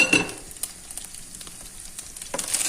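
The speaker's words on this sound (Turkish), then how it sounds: "Etlerimiz kavrulana kadar arkadaşlar suyunu çekene kadar karış kavuralım." Beef cubes sauté in a pan for a creamy meat dish, with a soft continuous sizzle and light stirring scrapes, plus a louder burst of frying at the start and again near the end.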